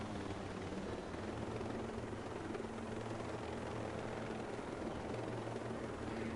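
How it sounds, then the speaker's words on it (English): A helicopter in the video game Ghost Recon Breakpoint drones with a loud, continuous rotor thrum and engine roar that holds steady throughout, with no talk. "I'm trying to steal the helicopter"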